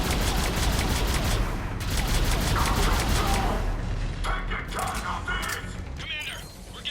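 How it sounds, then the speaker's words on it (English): Mortar fire rumbles through a battle in Mass Effect Legendary Edition, a loud, continuous low barrage layered with mechanical clatter and crackling bursts, easing slightly near the end. "Commander, we're getting a lot of mortar fire."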